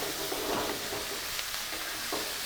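Vegetables stir-fry in a hot pan with a steady sizzle, broken by a few louder scrapes and tosses as they are stirred.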